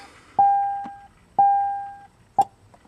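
An aftermarket chime in a 2006 Chevrolet Silverado beeps three times with the ignition on. The beeps are loud, close and evenly spaced about a second apart; the first two ring out long and the last is short.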